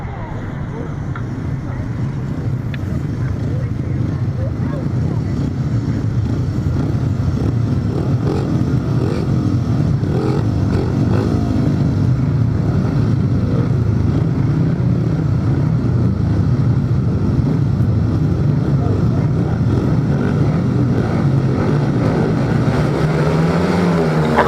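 Grasstrack racing motorcycles at a British Masters meeting roar off the start together, a loud blended engine rumble building and holding at a distance, with wind buffeting the microphone.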